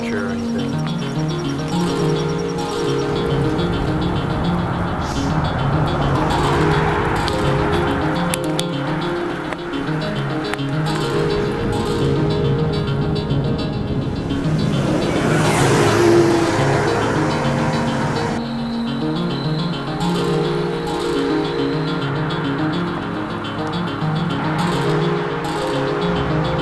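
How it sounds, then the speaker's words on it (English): Cars driving by on a road near a cyclist out bikepacking, a continuous loud engine and tire roar that swells and fades as vehicles pass close, with wind noise throughout. "So many cars driving by, so I have to keep stopping"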